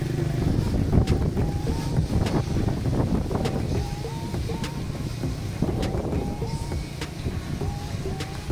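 Steady wind buffets the microphone with a rough, continuous rush, mixed with engine and water noise from a moving boat.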